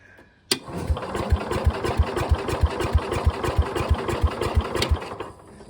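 A Cub Cadet lawn tractor engine cranks over with a sharp start and then a fast, even chugging rhythm for several seconds, fairly close, before it cuts off.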